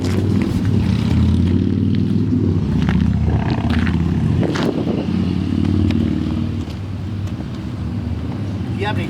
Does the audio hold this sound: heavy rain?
no